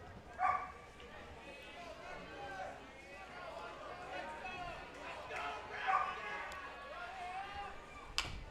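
A dog barks a couple of times at a distance over a murmuring outdoor crowd and nearby talking at a state baseball game.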